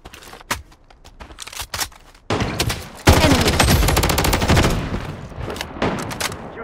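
AK47 gunfire in the mobile shooter game Blood Strike: scattered single shots and short bursts, then sustained rapid automatic fire, loud and close, mixed with other guns firing.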